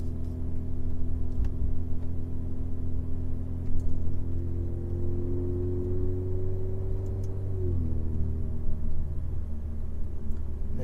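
Alfa Romeo Giulia 2.0T with a catless downpipe, its exhaust droning at a steady deep rumble that climbs gradually in pitch, then drops abruptly near the end as revs fall, close and continuous.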